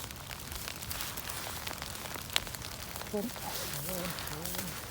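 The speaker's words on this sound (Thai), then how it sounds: "เสียงฝนจ้ะ" Rain falls steadily in a forest during mushroom picking, a soft, even patter spread across the whole scene, with people talking faintly over it toward the end.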